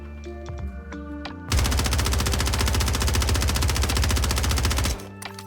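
An SMG fires one long, rapid automatic burst on the firing range in the video game Warzone 3. The burst is loud and continuous for about three and a half seconds, with clicking game sounds before and after.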